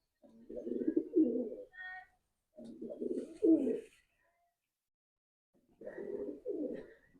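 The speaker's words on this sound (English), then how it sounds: "The doves, just having a chat." Doves coo close by in three separate bursts of soft, low, throaty calls with pauses between, and a few faint higher bird chirps in the gaps.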